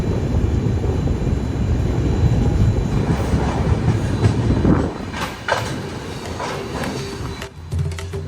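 A Sampark Kranti express train runs steadily along the rails, a loud continuous rumble with clickety-clack from the wagons that eases and shifts partway through, heard from inside the coach.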